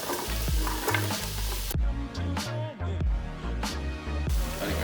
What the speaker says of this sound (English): We'll get those onions in the pot with some olive oil.